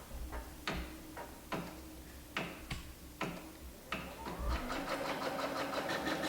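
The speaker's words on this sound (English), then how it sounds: "I'll put the pressure foot down and start sewing." An embroidery sewing machine stitches on ribbon with a few sharp mechanical ticks and clunks, then settles into a fast, steady rhythmic chatter of the needle, close up and fairly quiet.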